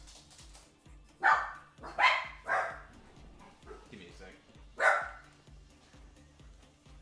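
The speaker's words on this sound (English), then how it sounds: "Me knocking on wood triggered my dogs." Small dogs bark in a home, set off by knocking on a wooden table; four or five loud, sharp barks come in a ragged burst, with someone talking over a steady background hum.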